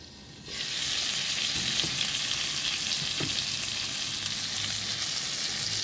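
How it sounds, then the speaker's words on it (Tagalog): Honey garlic chicken fries in a covered pan with a steady, dense sizzle that starts abruptly and holds loud and even, with a couple of faint clinks underneath. "Takpan natin hanggang mag-golden brown ang kabila, tapos babaliktad natin."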